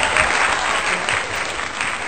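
Dense audience applause, with many hands clapping in a continuous loud wash, fills the short stretch without a break.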